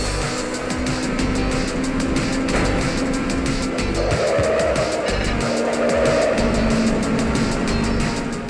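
Race cars roar and tires squeal as they slipstream in the video game Ridge Racer 3D on the 3DS, with loud, continuous engine drone and shifting pitch throughout.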